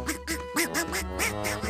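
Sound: duck quacking in cartoon

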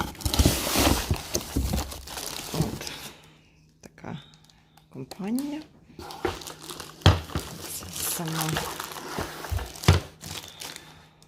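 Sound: unpacking cordless vacuum cleaner parts from packaging

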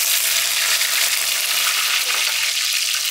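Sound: curry leaves added to hot oil, sizzling

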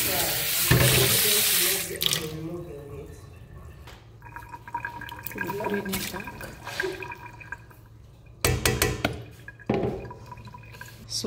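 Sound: water being drained through a sieve into sink

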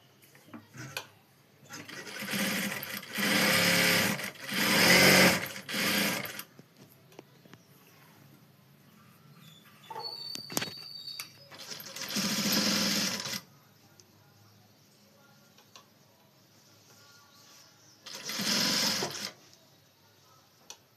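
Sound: sewing machine stitching blouse fabric

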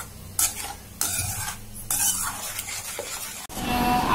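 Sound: stirring tamarind chutney with red chilli powder

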